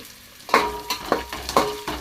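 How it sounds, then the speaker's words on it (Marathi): Vegetables and tomatoes fry in a pan and get stirred briskly, with a few quick metallic scrapes over a low sizzle. "आता चांगला हलवून घेतो."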